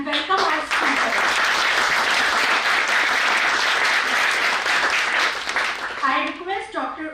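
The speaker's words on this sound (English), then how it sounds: "Now, I ask everyone to give a great applause and welcome our speakers." A conference audience at a national academic seminar applauds the speakers, steady dense clapping filling most of the stretch before a voice begins speaking near the end.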